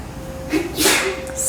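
A single short sneeze in a yoga class held in a church, a quick breathy burst heard close and alone, with no talk over it.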